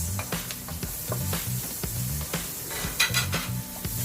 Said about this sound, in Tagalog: Then pagka medyo golden brown na yung ating bawang, sunod na natin itong ating sibuyas.